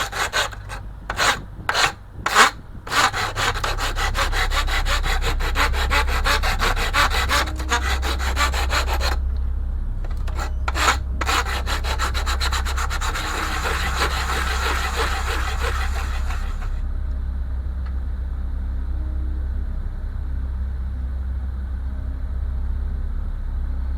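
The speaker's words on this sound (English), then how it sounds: "we're going to have to sand down the bulkhead tops because it's not quite cured yet" Sandpaper rubs steadily across the wooden bulkhead tops of an OCCRE Flying Dutchman 1:50 scale wooden model ship kit, close and loud, starting with a few separate strokes and then settling into continuous back-and-forth scraping before easing off toward the end.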